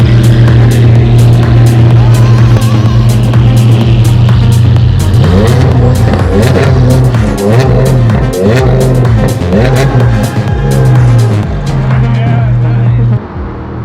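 Rally car at a lake rally, its engine held at high revs and repeatedly bouncing off the rev limiter in rapid stuttering pulses, loud and close, with voices talking over it.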